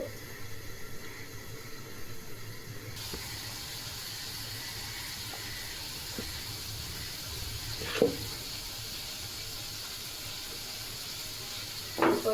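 Spices fry in a pan with a soft, steady sizzle and a few faint stirring knocks, fairly quiet and without voices.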